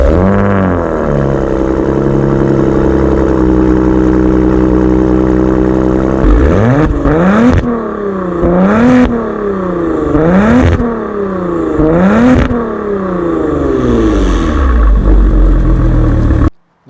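A 2023 Maserati Ghibli GT, the lower-horsepower variant, holds a steady idle and then revs hard in a run of about five sharp blips, each climbing and falling back, loud and close with no talk.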